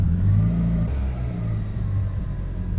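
Engine of a bagged Mk2 Golf, struggling to start cold, settling into a steady low rumbling idle, close and continuous with a slight shift in tone partway through.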